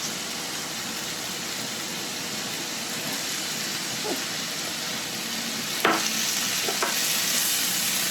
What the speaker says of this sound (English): Now this is nice and beautiful, so I'm gonna add my crab meat.